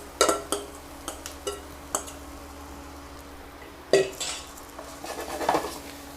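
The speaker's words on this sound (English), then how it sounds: "Constantly mixing in order for them not to burn." A utensil stirs croutons with butter, garlic and parsley in a pan, giving scattered soft scrapes and knocks against the metal with quiet pauses between them.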